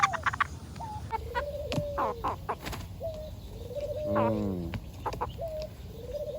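Crossbred chickens and a rooster are handled up close, giving a run of clucks, coos and rising squawks with a louder agitated cackle partway through, over a low rumbling background.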